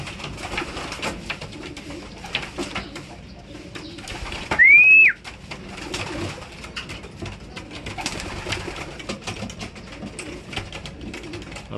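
Inside a pigeon flyer loft, one brief, clear coo rises over a steady, low background hum, then the loft falls quiet again.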